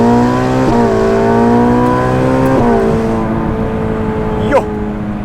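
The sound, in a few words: Ferrari 488 Pista engine accelerating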